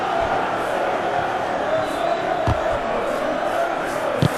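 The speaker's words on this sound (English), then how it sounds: "the crowd have tried to spark some excitement, but to no avail" A stadium crowd in a football video game keeps up a steady, roaring murmur throughout, with a couple of brief thuds standing out over the constant wash of noise.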